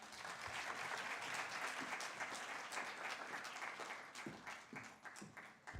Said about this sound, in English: No, surely, Carlton deserves a better round of applause. Let's do that again.